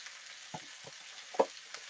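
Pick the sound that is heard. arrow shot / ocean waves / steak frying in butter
steak frying in butter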